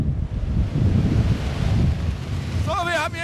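Strong stormy wind roars and buffets across the microphone during a wind-load test of a door, a loud continuous rumble with gusts, and a brief whining tone rises near the end.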